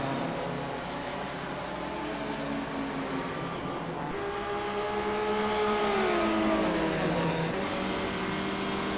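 Loud 12-cylinder Formula One racing cars roar past at the 1958 Italian Grand Prix, a high-pitched whine rising and then dropping in pitch as the cars scream by close at hand.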